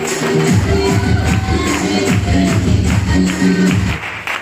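A crowd claps and shouts together, loud and close, a mix of cheering voices and clapping that fades slightly at the end.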